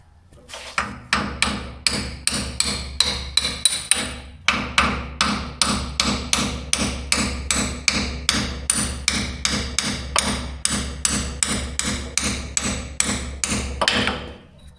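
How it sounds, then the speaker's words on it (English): Steady, forceful hammer blows on the axle seals of a Minneapolis Moline U302 Diesel, dozens in a row at a brisk even rhythm, close by, with a brief pause early on before the pounding resumes. "All right, I need a hammer."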